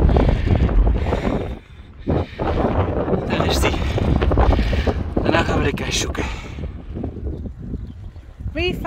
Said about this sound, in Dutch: Veel wind.